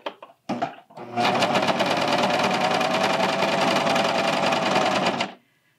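A serger overlocker stitches a cotton tee, running in one continuous, loud, buzzing whir for about four seconds before stopping abruptly, preceded by a brief handling noise.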